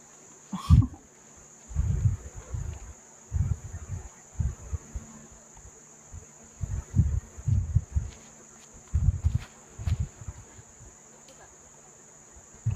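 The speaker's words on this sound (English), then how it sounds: "A lot of chirping going on behind the box." Insects chirp steadily behind a disc golf tee box at a professional women's tournament, a thin continuous buzz under scattered low outdoor thumps and rustles, with no clear talking.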